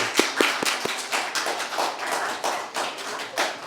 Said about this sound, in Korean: 우리 박수로 한번 환영을 하시죠.